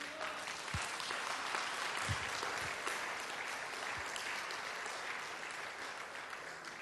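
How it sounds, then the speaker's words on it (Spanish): A church congregation applauds for the Lord, a sustained wash of many hands clapping at moderate distance, steady and even throughout, with a few sharper claps standing out. "¿Le daría un aplauso al Señor?"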